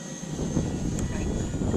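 Twin 64mm electric ducted fan jet whine from a Freewing F-14 Tomcat RC model flying overhead, a steady airy roar with a high tonal line, heard outdoors under a voice giving flying instructions.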